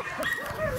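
A dog at a dog shelter in Ciacova gives short whimpering yips and barks, close and fairly loud, with more dogs and faint voices in the background.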